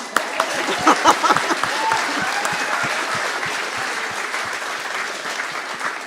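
Audience applause breaks out in a Māori justice forum on a marae, with dense clapping from a sizeable crowd and a few sharper nearby claps, holding steady before tapering slightly.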